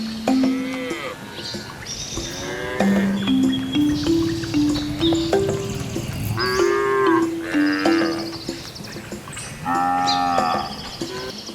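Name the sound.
cow mooing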